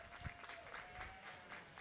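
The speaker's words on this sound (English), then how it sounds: "Let's send Maddie off with a great big round of applause." Applause from a crowd at a livestock sale ring, brief and fairly faint with a steady pattering of clapping under a faint sustained tone.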